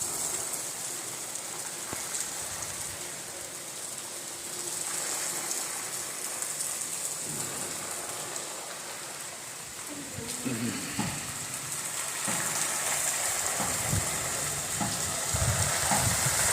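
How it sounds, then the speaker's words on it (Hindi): Heavy rain falling in the mountains of a village in Uttarakhand, a steady dense hiss that thickens toward the end, with people talking quietly beneath it. "बहुत तेज बारिश आ रही है पहाड़ों से।"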